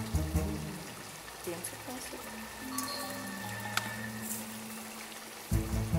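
Soy sauce poured over a bowl of flat rice noodles with cilantro, carrots and vegetables dressed in hot oil, a soft liquid pour at a Dungan market food stall in Karakol, Kyrgyzstan, heard beneath busy market background noise and some talk.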